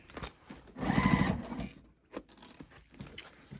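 A sewing machine stitches through a bulky tote bag at a small stitch length, one steady burst of rapid whirring needle strokes lasting about a second, followed by quieter handling clicks.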